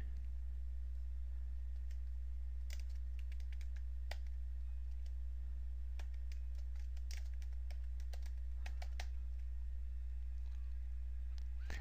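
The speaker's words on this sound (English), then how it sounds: "Next, type the official assignment name and number, a colon, and the descriptor." Soft, irregular key clicks from typing on a computer keyboard, faint and scattered over a steady low hum, with no talk.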